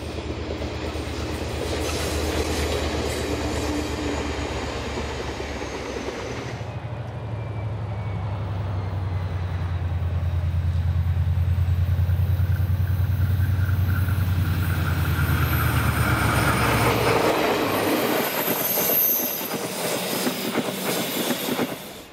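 A train runs past stored passenger carriages at Taumaranui, New Zealand, a steady rolling rumble with wheel clatter that deepens and swells midway, then brightens with faint wheel squeal near the end, heard alone without talk.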